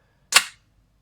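A single sharp crack of a KJW Glock airsoft pistol firing, a close, bright snap with a brief fading tail, followed by silence.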